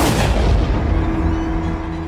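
Loud booming gunshots fired at close range at two older people, a dense burst of blasts with heavy low rumble that fades over about two seconds.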